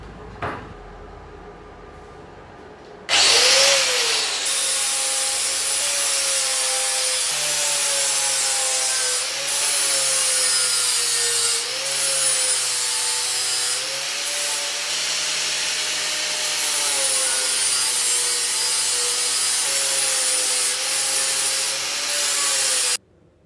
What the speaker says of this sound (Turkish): Taşlamayı yaparken kırpık flap kullanıyorum.